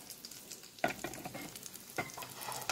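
Beef cutlets frying in hot oil, a steady crackling sizzle with brief louder bursts of bubbling and stirring, close by and with no talk over it.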